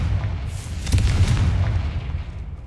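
Confringo fire spell exploding in the Hogwarts Legacy video game: a heavy low boom with a sharp crack near one second, followed by sustained rumbling, loud and close, no voices.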